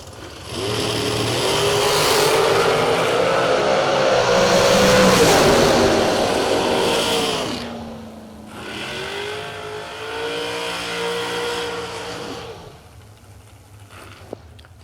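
Drag race cars roar down the strip at a high-dollar drag race event, with a loud rising engine scream followed by a second, slightly fainter run, both heard from a distance.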